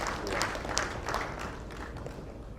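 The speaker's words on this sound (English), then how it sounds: "A bigger round of applause for her." Faint, distant applause from a conference audience welcoming a panel moderator at an annual SDG conference in Uganda, a soft patter of many hands with a few sharper claps standing out.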